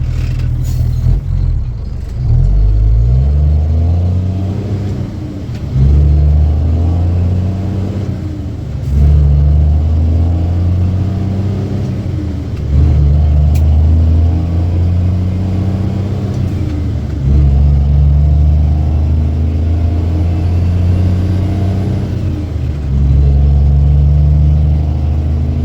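Truck towing a trailer loaded with a backhoe, about 41,000 pounds in all, a loud deep engine rumble that climbs and drops through repeated gear shifts, close and continuous with no talk.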